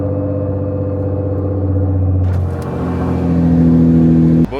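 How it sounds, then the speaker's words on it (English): A Nissan GTR engine at cold start runs at a loud, steady high idle, then revs up and settles, with a strong close exhaust rumble throughout and no talking. "cold start on the GTR"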